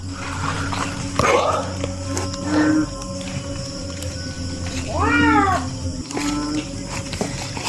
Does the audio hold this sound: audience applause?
no